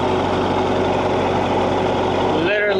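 A welding rig truck's exhaust idles loudly and steadily up close, a constant low rumble with a droning tone that briefly shifts at the end.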